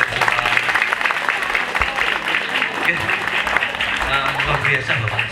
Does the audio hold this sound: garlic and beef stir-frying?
no